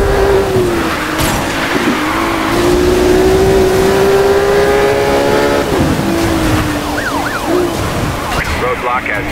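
A Ferrari Enzo races in a Hot Pursuit police-chase video game. The engine drones loud and continuous under wailing police sirens, with pitch-shifting tones over constant road noise.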